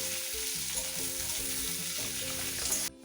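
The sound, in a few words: chopped onions frying in oil with whole spices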